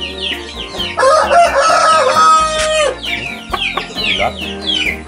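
A rooster crows loudly nearby, a long drawn-out call, with clucking and other chicken sounds before and after it.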